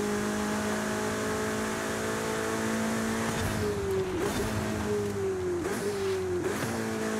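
A Ferrari California T's V8 from 2014 revs hard in the racing game Forza Horizon 5. It holds a steady high-pitched drone, then three times the pitch drops sharply as the gears shift and climbs again. The engine sounds close and loud.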